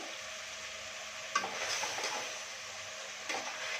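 A utensil stirs mourala fish with spices in a hot pan, giving a soft sizzle with a few sharp scrapes and clinks against the pan. No one speaks.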